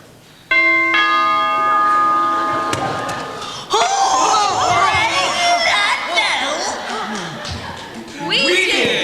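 Doorbell rung by the Scarecrow in a live stage play of The Wizard of Oz, a bright, sustained bell tone ringing out, followed by audience laughter and chatter.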